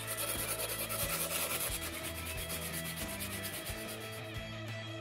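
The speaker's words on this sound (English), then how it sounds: "round off the handle using sandpaper" Sandpaper rubs steadily against the wooden handle of a homemade butterfly knife in a continuous, even rasp over a layer of rhythmic background music.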